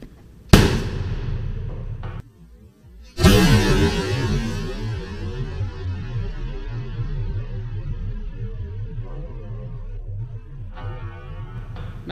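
An air gun fired indoors gives one sharp, loud report followed by a second blast about three seconds later, with a ringing, reverberant tail settling into steady room noise.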